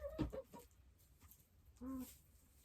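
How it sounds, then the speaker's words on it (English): Several young, well-grown chickens give short, soft clucks and one brief rising call, heard faintly at a distance during evening farm chores. "So I have my chicks, who aren't really chicks anymore, they're pretty big."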